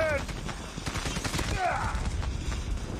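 Rapid gunfire from Call of Duty Mobile gameplay, a dense automatic burst with a shrill tone sweeping through it, steady and loud across the short stretch.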